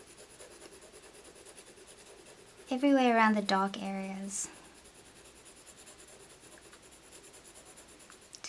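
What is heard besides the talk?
colored pencil shading on paper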